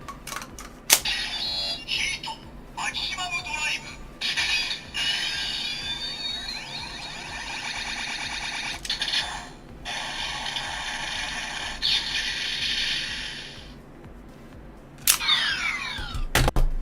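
Ratcheting plastic clicks and mechanical snaps from a Double Driver toy belt as a Heat Memory is slotted into a Metal Shaft, with bursts of electronic chimes and tones between the clicks.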